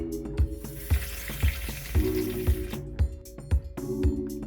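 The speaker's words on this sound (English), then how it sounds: "Again, cold water." Water runs from a faucet in a 2001 Peak Manufacturing Kodiak VXL2000 Class B Plus motorhome, a steady wash with a rhythmic thumping pulse about twice a second, close and fairly loud.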